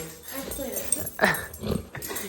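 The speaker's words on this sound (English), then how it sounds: "He's such a happy puppy." A puppy whimpers and gives soft wheezy whines, close and fairly faint, with a person speaking over it.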